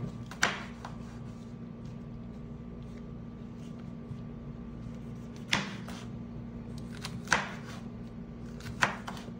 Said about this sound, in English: I'm not going to chop these up too fine